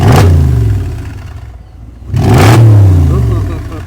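Two loud, gravelly engine revs from a 2012 Mercedes-Benz G550 with an aftermarket exhaust roar up and fade back, separated by a brief dip, with a deep exhaust growl throughout.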